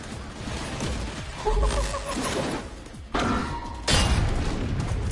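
In Gungrave G.O.R.E, demolition shot blasts destroy cover with heavy booming impacts, one around the middle and two stronger ones near the end, over a busy layer of game action.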